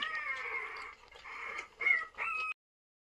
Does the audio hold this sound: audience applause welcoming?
no